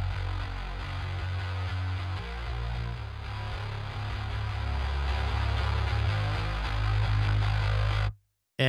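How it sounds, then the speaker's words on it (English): Fuzz-distorted pop punk bass guitar doubled with ADT for a chorused stereo width, a thick buzzing wall of low repeated notes running continuously and loud before cutting off briefly near the end. "which gives it like a chorusing effect and a stereo effect"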